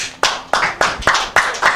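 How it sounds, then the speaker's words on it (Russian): A few people clapping in a radio studio during an evening quiz show, sparse, distinct, irregular claps, close and fairly loud, with no voices over them. "Аплодисменты."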